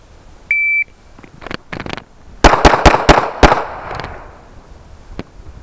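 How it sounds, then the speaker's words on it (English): A short electronic start beep, then a few scattered shots before a rapid string of five loud, sharp pistol shots fired after a pivot and turn on a tactical pistol qualification course, with echoing tails and a last shot trailing off. "You're gonna do a pivot and a turn, and you're gonna fire 5 rounds."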